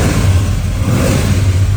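A 1969 Chevrolet Chevelle with a 396 engine, close and loud, roaring as it revs steadily through a short burst, with a rough mechanical rumble.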